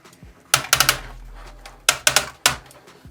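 A Transformers Titan-class toy's waist joint is turned, giving sharp plastic ratchet clicks in two quick bursts of four or five closely spaced clicks separated by a short pause.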